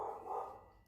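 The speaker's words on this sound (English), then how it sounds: "please don't mind if you hear some barking there." A neighbor's dog barks in the background, a faint pair of muffled barks heard alone through a wall.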